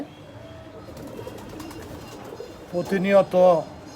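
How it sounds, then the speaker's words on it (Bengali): Pigeons of various breeds, including racers, kept on a rooftop coo in a burst of close, throaty calls near the end, following quieter ambient noise with faint voices. "আরও বিভিন্ন জাতের কবুতর আছে, রেসার, এই যে রেসার"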